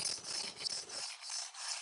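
A knife edge stroked across a 320 grit whetstone to shape the bevel, a close, steady, gritty rasping that repeats in long even passes with no talking.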